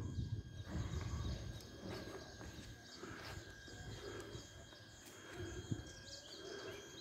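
Horse hooves clip-clop near the entrance of a house in Sfax, Tunisia, a soft irregular clatter under ambient noise with faint bird chirps and a sharp knock near the end.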